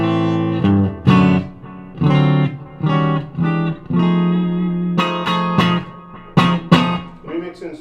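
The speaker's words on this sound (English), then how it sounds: "so I'll stick on the reverb now." Electric guitar on single-coil pickups through a reverb pedal, notes and chords ringing out with a washy reverb tail, played in short phrases with brief pauses between them.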